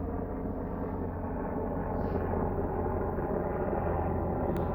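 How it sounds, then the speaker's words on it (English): A helicopter passes overhead as a low, continuous rumbling drone, steady and fairly faint, heard without speech. "Sorry, I'm waiting for this helicopter to fly over."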